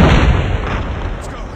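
A grenade explodes in the video game Call of Duty Mobile, a loud, close, broadband boom whose low rumble fills the whole stretch and slowly fades, with a faint voice underneath.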